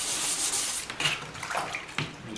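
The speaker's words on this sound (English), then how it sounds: "And I'll just keep sanding until I get a nice smooth finish." Wet sanding of Bondo body filler on a Honda Sabre motorcycle part, a steady close scratchy rubbing with a few stronger strokes, no talk.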